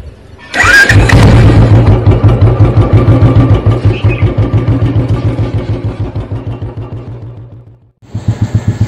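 A motorcycle at the start of a Mumbai road trip is cranked and fires up with a loud burst, then settles into a close, rhythmic idle of regular thumping pulses, cutting out briefly before catching again.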